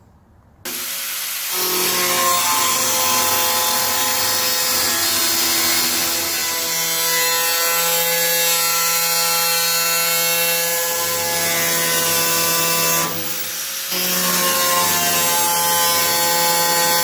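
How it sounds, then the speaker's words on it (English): Power tool cutting through the plastic dash grill of a Ford F250 along a taped line, a loud continuous whining grind that runs steadily for about twelve seconds with a brief dip near the end. "I'm going to cut along this tape line, cut this piece of grill out"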